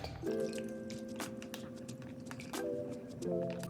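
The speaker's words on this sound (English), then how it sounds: "take your Ziploc bag and pour your mixture in it" Homemade ice cream mixture poured from a container into a Ziploc bag in a kids' science demonstration, a steady wet trickling and splashing with a few soft plastic crinkles, close and fairly quiet.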